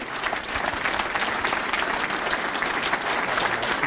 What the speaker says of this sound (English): a huge round of applause, please, for a leader and legend of Sheffield Wednesday Football Club